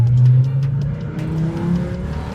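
A Hummer H engine revs loud and close, a deep throaty roar that swells and settles with a rising whine, alone without talk.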